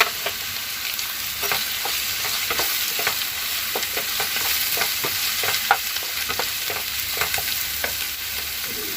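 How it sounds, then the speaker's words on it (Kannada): Green chillies and ginger garlic paste fry in a pan for a homemade kushka, giving a continuous loud sizzle with repeated short scraping stirs of a utensil and no talk. "ಈಗ ನೋಡಿ ಹಸಿರು ಮೆಣಸಿನ್ಕಾಯಿ ಹಾಕ್ತಾ ಇದ್ದೀನಿ"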